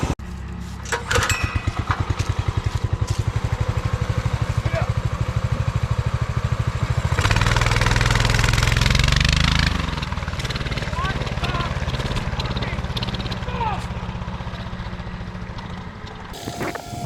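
A small go-kart engine runs after a carburetor swap, a steady close buzzing idle that revs up hard and loud for a few seconds midway, then settles back into a rough, continuous running drone.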